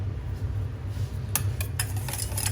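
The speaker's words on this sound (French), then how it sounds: "Donc on va venir mélanger tout ça ensemble." Mustard from a Dijon mustard house being stirred together with egg yolks in a bowl for mayonnaise, a soft scraping with a few light utensil clinks against the bowl over a steady low hum.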